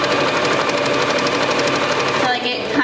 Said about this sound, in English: I'm just going to keep sewing